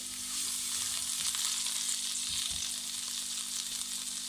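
Chopped garlic cloves sizzle in two tablespoons of hot ghee in a kadai, a steady, even hiss of frying that holds constant throughout with no voices.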